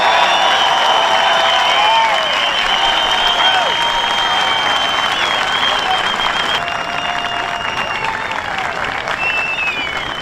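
Gallery crowd at a Korn Ferry Tour professional golf tournament bursts into loud, sustained applause and cheering after an eagle putt to win, with whistles and shouts over dense clapping for the full stretch.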